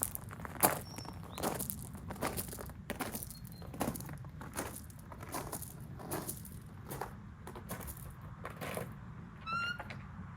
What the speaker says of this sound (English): Me walking into my studio.